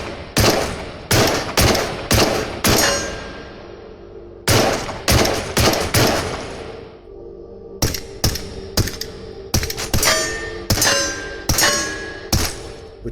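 A Glock 17 9x19mm pistol fires in the video game Into The Radius, sharp loud gunshots in quick bursts of several rounds, with metallic clinks between volleys and short pauses separating each group of shots.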